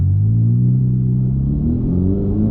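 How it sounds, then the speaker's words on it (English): A 2021 Ferrari Roma's engine and exhaust rumble deeply while driving, a loud steady low drone with pitch rising gradually as revs climb, heard from the cabin. "Now, even though they did tone down a bit on the exhaust, it does resonate a bit in the interior"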